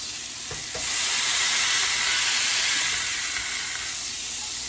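A burger patty is pressed down on a hot flat cooking surface for a smash burger, a loud, close sizzle that swells after a light knock and then holds steady before easing slightly.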